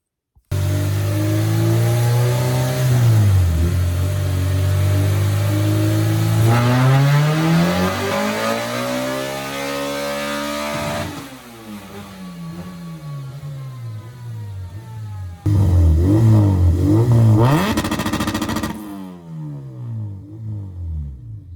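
A fully built Honda K24 with a built bottom end, 12.5:1 compression, JBR block and ported TSX head revs hard and loud, the engine note climbing and falling through several throttle blips with no talking.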